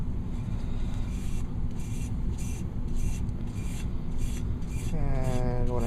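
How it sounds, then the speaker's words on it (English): Buffing by hand on an AR-15 lower receiver with colorfill, a steady close rubbing rasp in a repeated back-and-forth rhythm, with a faint tonal hum surfacing near the end. "So I'm just buffing this out right now."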